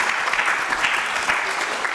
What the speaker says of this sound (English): We give a usually big applause.